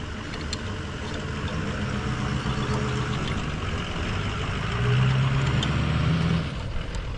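A hot rod car engine rumbles steadily at a low idle as it comes up a driveway, swelling a little louder toward the end, with no voices over it.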